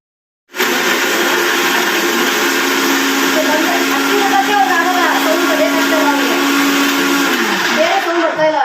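A new mixer grinder grinding ingredients for egg curry, starting abruptly after a short silence and then running as a loud, steady high-pitched whir with a slight pitch shift near the end.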